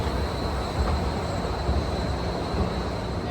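Washington DC Metro train running underground beneath the Constitution Center: a steady, loud rumbling roar with a high whine, continuous and unbroken, no talk.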